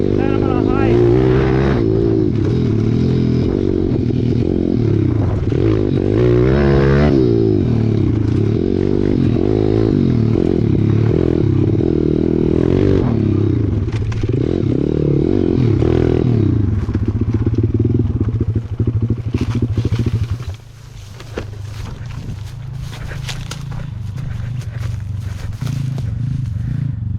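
A pit bike engine revs hard and rides fast near a river, a loud continuous drone with rising and falling pitch that drops off briefly near the end, with people talking over it.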